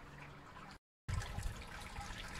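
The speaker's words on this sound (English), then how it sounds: "Wait for sparge water coming through. So that is now sparging." Sparge water runs from a tap during a home brewing session, a steady close splashing trickle of liquid broken by a brief silent gap, then resuming with fuller gurgling flow.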